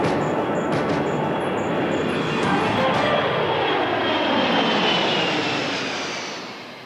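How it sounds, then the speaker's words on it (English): Jet engines of a C-17 Globemaster III military airlifter roar loudly and continuously, with a sweeping pitch shift as the aircraft passes before the sound slowly fades near the end. "The C-17 Globemaster III brings a new dimension to airlift"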